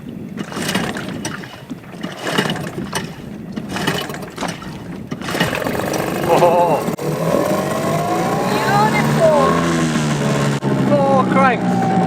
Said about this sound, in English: 4 cranks, an old Mariner engine under the dinghy for 3 months.